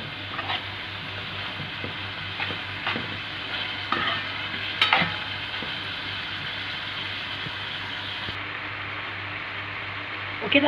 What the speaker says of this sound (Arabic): ونقلب كله مع بعضه، ونفضل نقلب لحد طبعا ما كله